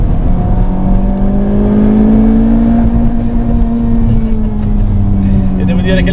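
A 2018 Honda Civic Type R engine pulls strongly under acceleration on a mountain road, its tone climbing smoothly and loudly, with someone talking in Italian over the engine noise.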